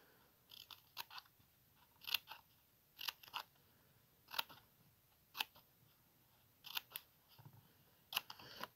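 A pair of blade scissors snips paper for a handmade card, making about a dozen crisp, close cuts in an uneven rhythm with short pauses between them.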